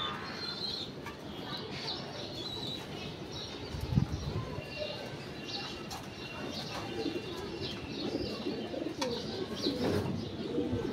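Pigeons coo softly in a home loft, low repeated calls mixed with faint chirps and a short burst of wing flapping, with quiet background noise and occasional distant voices.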